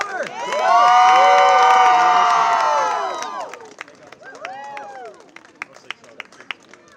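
Children loudly cheer at a taekwondo demonstration at the Pittsburgh Zoo: a sustained, shrill group shout that swells for about two and a half seconds, then drops to scattered voices, brief yells and a few sharp claps.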